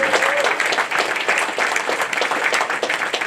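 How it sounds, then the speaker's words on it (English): A seated audience at a sponsored talk event gives a loud, sustained round of applause, dense, even clapping filling the whole stretch. "Let's give them a round of applause."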